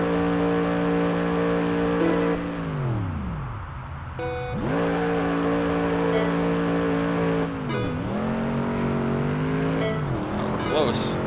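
A Ford GT race car engine revs hard through repeated gear changes, its pitch climbing, dropping and climbing again close up, while people talk over it.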